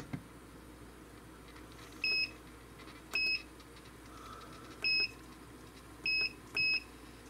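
Electric pressure cooker beeping as settings are chosen, five short high electronic beeps spaced irregularly over a low kitchen background hum, clear and close, the last two coming quickly together.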